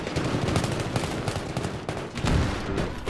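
Rapid enemy gunfire in the Battlefield 3 beta, a dense sustained burst of shots crackling close by with a heavier thump near the end, no talk over it.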